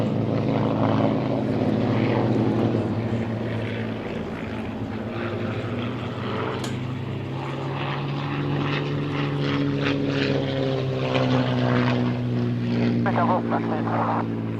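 A vintage propeller aircraft drones overhead during an air display, its engine roar rising and falling as it passes, with someone commentating over the loudspeaker throughout.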